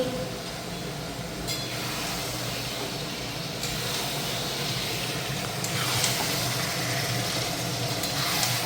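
Garlic sizzles in hot oil in a pan while mutton is being cooked, a continuous close hiss and crackle that swells slightly partway through, with no talk over it.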